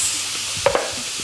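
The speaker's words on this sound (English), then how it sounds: "Oh yeah, it's a nice sizzle." Shrimp sizzling as it drops into a hot pan, with a steady bright hiss throughout and a couple of sharp clinks partway through.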